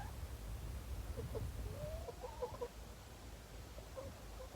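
Backyard farm chickens cluck and murmur softly while being fed fruit scraps, a few short calls rising over a steady low outdoor rumble.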